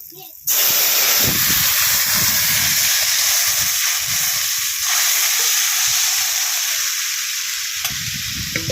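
Boiled papaya dropped into hot fish-frying oil seasoned with bay leaf and black cumin, bursting into a loud, steady sizzle and hiss that runs continuously, with stirring clatter beneath.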